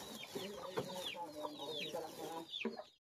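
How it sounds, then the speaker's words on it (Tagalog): Hens cluck steadily in a busy, overlapping chorus of short calls, close and fairly quiet, before the sound cuts off abruptly near the end. "yung mga manok natin"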